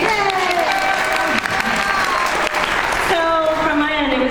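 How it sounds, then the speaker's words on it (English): An audience at a regional company event claps steadily and loudly for a panel guest, a dense, continuous patter that runs throughout with a voice speaking over it. "Let's clap for him. Let's clap for him, you guys."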